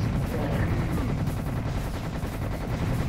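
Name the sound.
assault rifle gunfire in the Serious Sam video game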